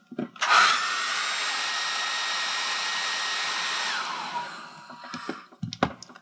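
A heat gun blows a steady, close whir for about three and a half seconds while warming the label on a Pokémon Crystal game cartridge, then cuts off, followed by faint handling sounds.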